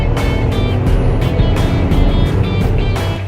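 A 2021 Volkswagen Polo GT revving hard under acceleration, a loud, steady engine roar filling the cabin with rising pulses, no voices over it.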